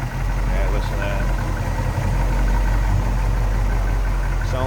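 A 1972 Chevrolet Chevelle two-door hardtop with a big-block V8 idles close by, a deep, steady, lumpy rumble with a loping low throb that holds evenly throughout.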